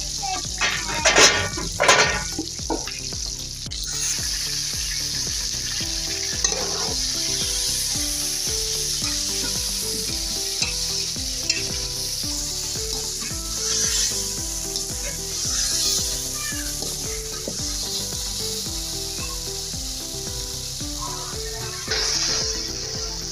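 Ground masala tipped onto browned onions fries with a steady, close sizzle, spoon stirring and scraping through it over soft tonal background music.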